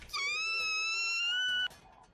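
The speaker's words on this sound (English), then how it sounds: "I hear girls shriek." A high, sustained shriek from the girls of a visual novel game, one strong tonal cry lasting well over a second with stacked harmonics, then cutting off sharply into quiet.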